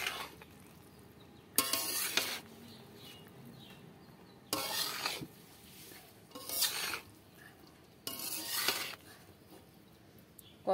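Eggs being mixed through biryani in a pot bring bursts of scraping and stirring, roughly four separate strokes with quiet pauses between them, close by and with no talk.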